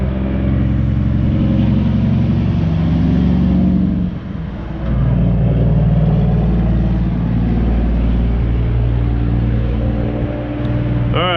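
A 1984 6.2 Detroit diesel engine that sat for 25 years runs with a loud, close, steady low rumble, briefly dipping before settling back into a constant drone.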